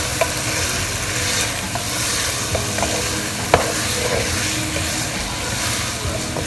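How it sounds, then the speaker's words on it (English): Spices with cumin and crushed black pepper sizzle in a hot pan of boneless chicken karahi as they are stirred, a continuous loud frying hiss broken by occasional scrapes and clinks of the utensil. "Now we're gonna stir everything well."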